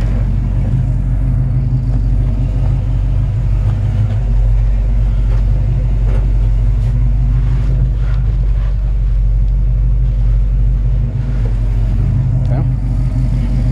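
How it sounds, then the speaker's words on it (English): A 1964 Chevy C-10 Fleetside pickup engine idles with a steady low rumble throughout, close and fairly loud, while someone speaks briefly over it. "Nice sounding engine."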